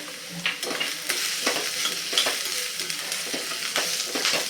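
Roasted chana dal stir-fried in a pan for a chutney, a soft continuous sizzle broken by repeated light scrapes and rattles from stirring, close up and with no talking.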